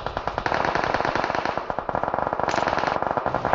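Rapid automatic gunfire rattles continuously in a video game shootout, loud and close, a dense stream of shots with no pause and no one talking over it.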